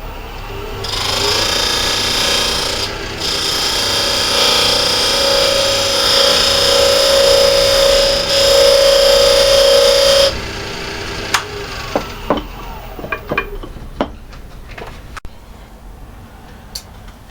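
Power tool whirring steadily and loudly while beveling the end of a wooden piece before thread cutting, running for about ten seconds, then stopping and leaving a few sharp knocks and clicks.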